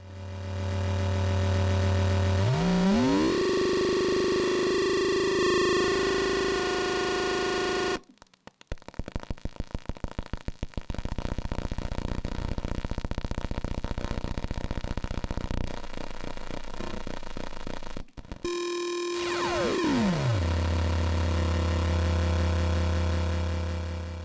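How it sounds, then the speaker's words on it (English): Harsh, buzzing waveshaped synthesizer tones from an Intellijel Shapeshifter that sweep in pitch, break into crackling, glitchy noise in the middle, then return to a thick droning buzz. "It's just to make the waveform's pretty noisy sounding, and that's what you get here."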